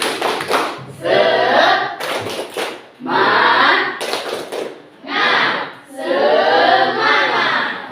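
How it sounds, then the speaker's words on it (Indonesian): Students in a classroom perform a rhythmic spirit clap, with short bursts of quick unison hand claps alternating with loud group chanting in a repeating call-like pattern. "Tepuk semangat."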